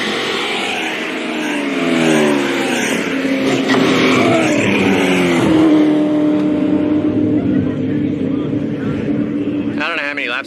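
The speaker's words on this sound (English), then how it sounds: "And you see those supercars when they're cresting over the hill now, coming down the main street." Supercars roar down a main street at Powercruise Sydney, engines loud and rising as they accelerate and shift, with a voice commenting over the din and a brief sharp sound at the end.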